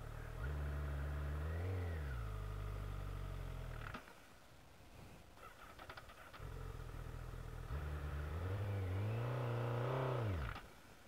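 A Honda liter-bike motorcycle engine revs hard in two long, loud, close surges, rising and falling in pitch, with a quieter idling rumble between them while a burnout is attempted; nobody speaks.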